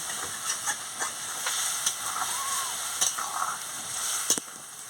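Steady sizzling and hissing as chopped potato, pointed gourd and ridge gourd fry in a pan, with occasional scrapes and stirring clatter over a constant bright steam-like hiss.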